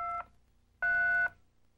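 Two electronic keypad tones from a 1994 Motorola cellular portfolio phone as a code is entered: a short beep, then a longer steady dual tone after a pause, clear and close with no talk.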